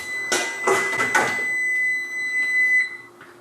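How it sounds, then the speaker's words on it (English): An oven timer beeps in a home kitchen while pizza is being made: a sustained electronic tone rings on and off alongside some clattering handling noises, fairly close, with no talk. "Our timer just went off, our oven's ready to go"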